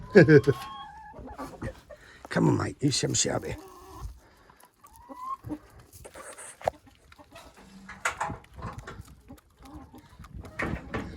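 Chickens cluck and squawk in short bursts at close range, scattered irregularly while someone speaks briefly between them.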